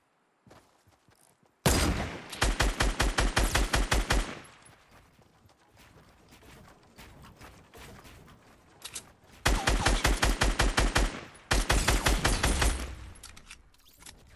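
Gunfire in Fortnite: loud bursts of rapid automatic shots in several long volleys separated by quieter gaps, with no talking.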